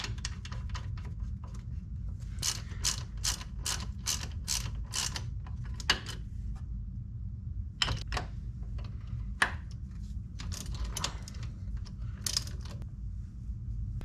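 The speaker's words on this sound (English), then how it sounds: "So now we're gonna go ahead and bolt our caliper on." A ratchet tightens two bolts on a new brake caliper during a brake swap on a 1999-2005 Grand Am, with runs of quick clicking strokes over a low steady hum.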